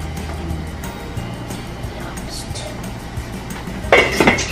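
A metallic clatter near the end as a lid is set on a boiling pot of paksiw na isda (fish stewed in vinegar), preceded by a steady background hum and faint kitchen noise.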